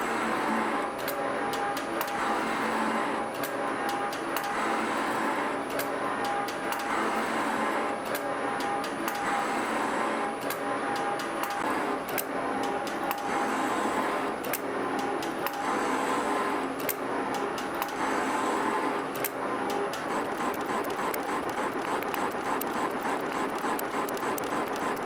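A metal shaper cuts metal with a carbide tool of about 3/8 inch radius, producing a steady, repetitive mechanical rhythm of ticking strokes and clanks running continuously at moderate loudness.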